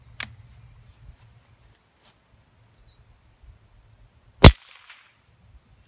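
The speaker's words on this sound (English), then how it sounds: "So now we'll be shooting the deodorant can" A single sharp .22LR Winchester Subsonic shot striking a deodorant can outdoors, one loud crack near the end after a faint earlier tap, with quiet rustling in between.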